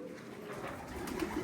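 Soft, low cooing of pigeons, faint and brief, with a murmur of background noise.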